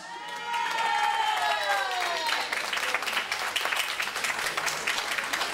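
Audience at a live concert in Crécy-sur-Serre breaks into sustained applause with scattered cheers and shouts, a dense crowd wash that swells and holds under a faint voice and lingering music at the start.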